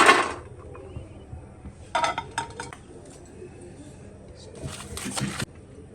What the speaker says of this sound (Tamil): இப்போ இதையும் நம்ம பிளேட்டில் கொட்டிக்கலாம்.